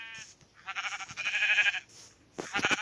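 A sheep bleats several times up close, wavering nasal calls in short bursts separated by brief pauses, the last cry louder and more clipped.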